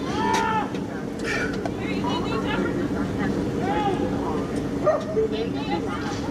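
A dog out on a neighborhood block barks and yips several times in short, uneven bursts, mixed into a noisy crowd of people talking and shouting close by.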